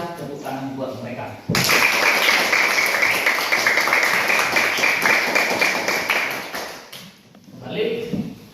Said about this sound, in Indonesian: berikanlah tepuk tangan buat mereka.